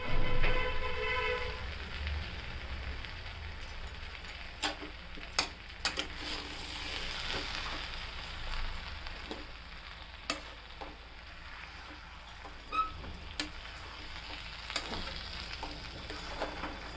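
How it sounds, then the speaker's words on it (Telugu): Onion and tomato paste frying in a pan for a paneer curry, a loud initial sizzle settling into steady crackling with scattered stirring scrapes and clinks throughout. "ఉల్లిపాయ టమాటా ముద్ద వేసుకుంటున్నాము."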